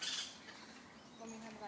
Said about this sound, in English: Oh, now look at this, a toucan.